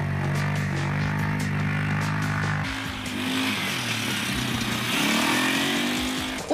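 A snowmobile engine drives an exam course on a tractor training ground, steady mid-pitched motor drone with rising and falling revs as the instructor demonstrates the figures, close and loud with no talking.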